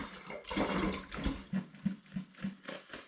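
Store-bought apple juice pours into a wine fermenter, giving a close, gurgling splash that surges and then breaks into a series of glugging pulses as the bottle empties.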